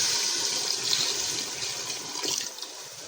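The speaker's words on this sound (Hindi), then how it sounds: "अब इसमें हम ऐड करेंगे पानी" Water poured from above into a pressure cooker of fried beef for curry, a steady hissing splash that fills the whole stretch and tapers slightly near the end.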